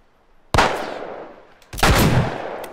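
A sniper rifle in The Last of Us fires two loud, close shots about a second apart, each a sharp crack that decays into a long echoing tail.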